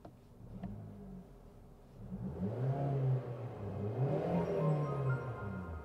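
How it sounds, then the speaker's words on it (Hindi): From inside a quiet car cabin, the engine cranks and catches, rising briefly in a rev before settling into a smooth, low idle hum. No one speaks. "तो ये साउंड आपको आएगी इसके स्टार्टअप की"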